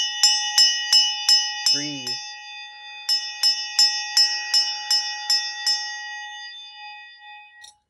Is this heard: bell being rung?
yes